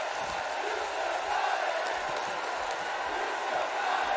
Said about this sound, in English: Now the crowd chanting, "You still got it."